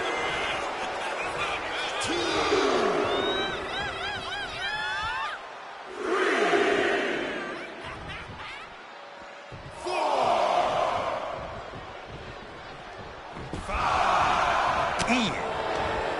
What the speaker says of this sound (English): And Rocky is revving this crowd up.